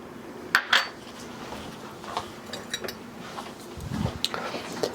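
Dry biscuit ingredients of flour, baking powder, garlic powder, cayenne and kosher salt are whisked together in a bowl, giving quiet scraping and a few light metallic clinks against the bowl, close and soft.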